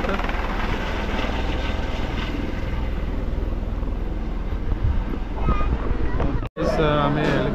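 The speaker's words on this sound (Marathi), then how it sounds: "हेलिकॉप्टर." Near the helipad on the route up to Vaishno Devi, a helicopter produces a loud, steady broadband roar that fills the whole stretch, with people talking beneath it and a brief dropout near the end.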